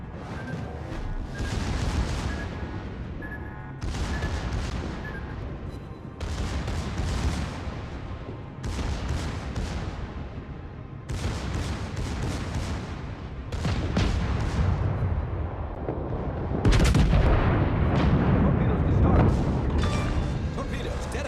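Naval guns fire in heavy salvos during a World of Warships battle, booming explosions arriving in repeated bursts roughly every two to three seconds, loud and dense, with a voice talking over parts of it.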